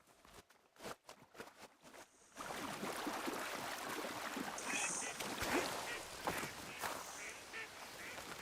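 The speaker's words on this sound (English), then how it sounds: "Okay, ducks." Ducks quack in the video game Horizon Forbidden West, with scattered calls over a busy, continuous ambient game soundscape after a quieter opening with light footsteps.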